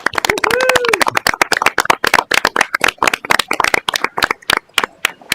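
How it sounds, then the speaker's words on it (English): An audience claps at a school board of education meeting, a loud, dense burst of applause that gradually thins into scattered claps, with a voice speaking over the start. "let's give them a big round of applause"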